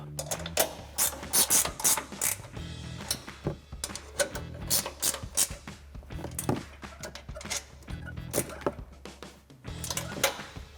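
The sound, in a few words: 15 mm ratcheting wrench tightening bolts on F-150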